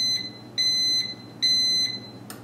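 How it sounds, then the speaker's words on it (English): A Mr. Coffee 12-cup coffee maker, model BVMC-SJX33GT, gives three long, high-pitched electronic beeps at steady intervals, then a brief chirp at the end, fairly close in a quiet room. "how to disable the annoying beep on the Mr."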